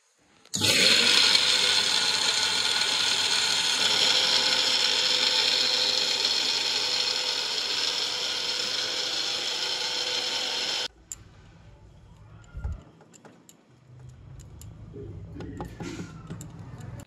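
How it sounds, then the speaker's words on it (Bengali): A mixer grinder loudly grinds cumin, chilli and ginger, a steady dense whirring roar that runs for about ten seconds and then cuts off, leaving faint kitchen clatter and low background noise. "আমি মিক্সি করতে ভয় লাগে বলে মাকে বললাম যে একটু মিক্সি করে দিতে, তাই মা করে দিচ্ছে"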